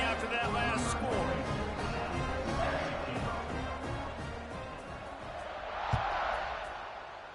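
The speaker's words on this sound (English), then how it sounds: "this crowd is buzzing after that last score" Football stadium crowd during a college game, Oregon versus Michigan, a broad steady roar and buzz after a score that fills the air, with a brief sharp peak midway.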